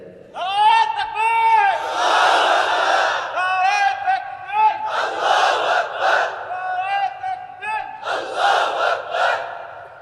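A crowd at a religious gathering shouts a slogan in unison, loud rhythmic bursts of many voices rising and falling over about ten seconds, with a lead voice calling out between the group responses.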